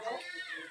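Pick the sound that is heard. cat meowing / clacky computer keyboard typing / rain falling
cat meowing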